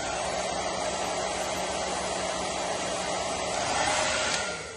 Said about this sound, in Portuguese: a gente vai bater o secador